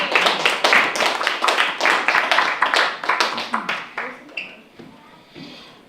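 A small audience at a live show claps in distinct, fairly close hand claps for several seconds, the clapping thinning and fading toward the end.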